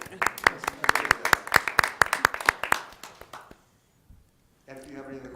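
Rhythmic, steady clapping from an audience at a school board meeting, a few seconds of evenly spaced claps that fade out, followed by a short silence and then a voice.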